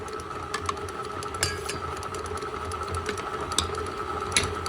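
An electric mixer whirs steadily at close range, mixing flour, cinnamon, baking powder, baking soda and salt into a cake batter, with faint ticks and clatter over the hum and no talking.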